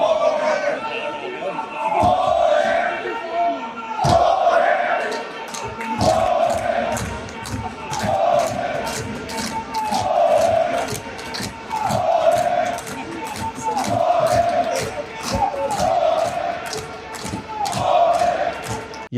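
Crowd in the Punjab Assembly chanting slogans in repeated call-and-response bursts, with sharp thumps punctuating the chant, loud and continuous with overlapping voices.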